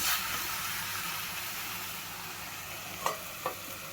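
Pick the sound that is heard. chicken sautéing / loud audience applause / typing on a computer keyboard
chicken sautéing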